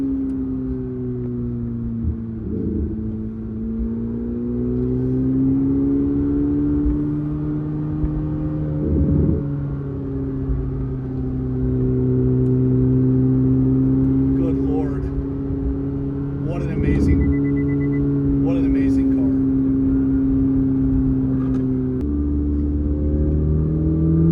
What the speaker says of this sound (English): Those turbos, they sound so good.